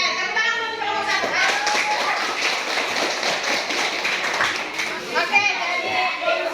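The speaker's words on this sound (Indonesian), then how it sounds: "tepuk tangan untuk kelompok 1" Classroom applause for a student group, many children clapping in quick irregular patter along with excited chatter and kids' voices, rising after the first second and tapering near the end.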